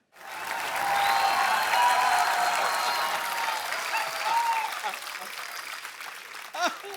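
Studio audience on The Kapil Sharma Show bursts into sustained, dense applause that stays loud for several seconds, then thins slightly toward the end, with faint voices underneath.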